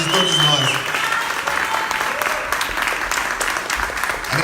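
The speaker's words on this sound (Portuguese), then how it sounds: "Merece uma salva de palmas de todos nós." Dense, continuous audience applause fills a theatre, steady throughout, with a voice briefly audible at the start beneath the clapping.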